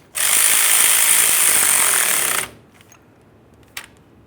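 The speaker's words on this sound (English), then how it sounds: "we're going to tighten the clamp that holds the inner tie rod end to the sleeve. Using my 15mm." A 15mm wrench works the tie rod sleeve clamp on a 1994-2001 Dodge Ram 1500, a loud, close, continuous whirring rattle for about two seconds that stops abruptly, then a single faint tap in quiet.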